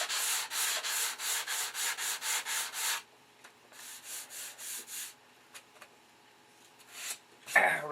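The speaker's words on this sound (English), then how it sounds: "Now I'm sanding with 320" Hand sanding of a model P-47 Thunderbolt fuselage with 320-grit paper, a run of about ten quick, regular rasping strokes close by, a pause, then a softer second burst of strokes.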